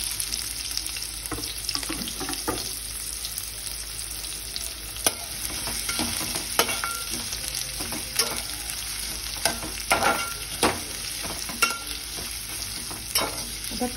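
Sliced onions and chopped green chillies sizzle in hot oil for an Agari-style spicy curry, with a spoon stirring and scraping the pan in irregular clinks over the steady frying hiss.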